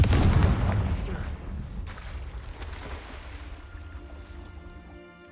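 A Confringo spell in the Hogwarts Legacy video game bursts in a loud, deep booming explosion up front, then rolls off into a long fading rumble and debris-like noise.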